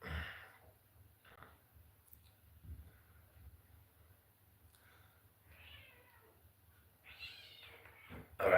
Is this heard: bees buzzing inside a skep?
no